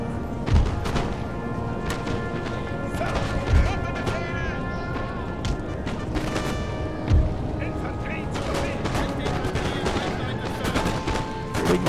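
Musket fire in a Napoleon Total War battle: scattered volleys and crackling shots, with a few deep thuds standing out at intervals over a busy, continuous battle din, while someone talks throughout.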